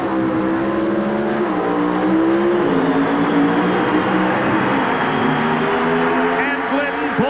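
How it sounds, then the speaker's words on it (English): Pro Stock drag racing cars with 500-cubic-inch engines roar and rev loudly at Atlanta Dragway during the 1988 NHRA Winston All-Stars, engine pitch climbing and shifting continuously, with a commentator talking over the noise. "The RPMs begin to mount."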